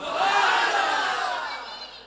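A large congregation at an Islamic sermon in a mosque shouts Subhan Allah together, one loud sustained collective voice swelling and slowly fading over about two seconds.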